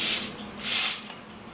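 Lace spray adhesive misted around a wig's lace hairline in short hissing bursts, two main sprays close to the microphone with a fainter puff at the end, no talking.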